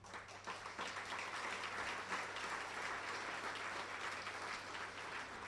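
Steady, dense applause from an audience at the JCPS superintendent's State of the District address, sustained and fairly even throughout with no talking over it.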